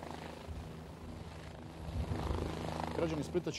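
Wings of Storm aerobatic team aircraft roar overhead during practice, a broad steady engine drone that swells louder in the second half, with a possible helicopter adding a low throb.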